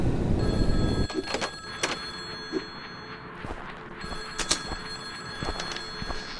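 A telephone rings inside the video game Bear Haven, sounding as a few sharp bell bursts through a continuous background noise, with a brief louder rumble at the start.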